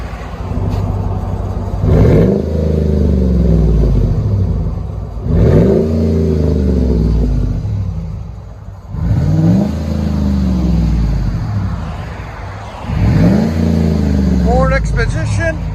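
A Ford Expedition XLT with a 5.4L V8 and a Vibrant muffler, revved hard four times in a row close by. Each loud surge rises and falls back to a deep, rumbling idle between blips.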